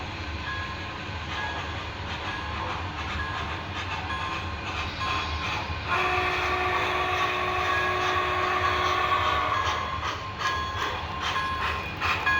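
A steady mechanical rumble of a running Union Pacific Big Boy 4884 model locomotive with early Proto Sound 3 electronic engine sounds; a whistle-like tone rises in the middle, then the running noise continues.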